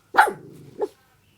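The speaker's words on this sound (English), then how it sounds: "Dog." A dog gives a short, close double bark, a loud first burst and a softer second one, heard alone within about a second.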